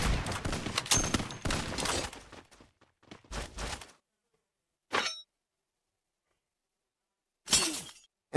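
Gunfire in an Aztec pro scrims video game match: bursts of rapid shots crackling through the first two seconds, a short volley near three and a half seconds, then isolated sharp single shots separated by silence.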